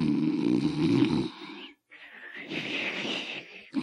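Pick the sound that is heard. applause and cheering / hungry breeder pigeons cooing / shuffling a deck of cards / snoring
snoring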